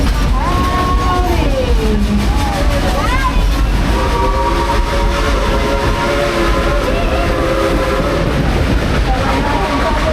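A Dollywood theme park train ride rumbles along steadily, with rail noise and faint whistle-like tones over a dense, continuous mix, while people talk loudly over it.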